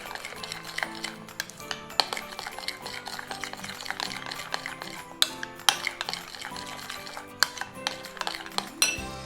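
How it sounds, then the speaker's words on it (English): Batter for crispy calamari, tinted brown with oyster sauce, being mixed in a bowl, with steady close clinking and scraping of a utensil against the dish and brief sharper taps throughout. "we finished mixing our batter for this"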